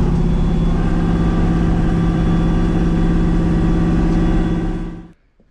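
A 4.8 V8 with 340,000 miles, fitted with a turbo cam and more boost, idles loud and close with a steady, lumpy rumble for about five seconds before it shuts off into silence.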